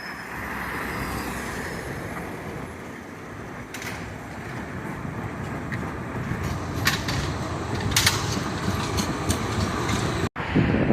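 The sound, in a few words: old and new streetcars passing in Riga old town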